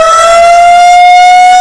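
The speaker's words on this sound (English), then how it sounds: "the sirens have been going off time and time again" A loud warning siren sounds right up close, one steady, unbroken wail that holds a single pitch throughout the short stretch, with no voices.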